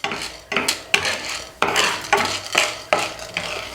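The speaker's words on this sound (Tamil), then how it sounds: "ஸோ பக்குவமாக வறுத்தெடுக்கணும்." Spices for idli podi are roasted and stirred in a pan, with repeated scraping strokes of a spoon against metal coming in close, rhythmic bursts every half second or so and a faint sizzle underneath.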